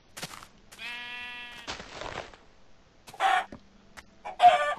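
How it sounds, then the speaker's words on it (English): Chickens in Minecraft give a few short, close clucks, one drawn-out harmonic squawk, and then two louder bursts, with no talking. "it's a chicken right here."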